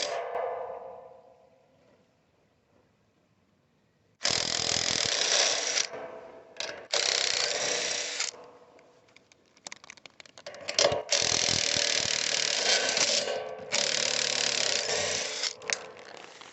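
Wrench work on roof satellite antenna mount bolts: several bursts of dense metallic ratcheting and scraping, each lasting a second or two, separated by short pauses, close and fairly loud with no talking.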